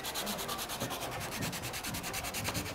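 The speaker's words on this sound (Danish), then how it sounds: "Så der sliber du lidt mere." Sandpaper rubs back and forth on old wooden furniture to strip the shiny lacquer, a steady rhythmic scratching close up with no talking.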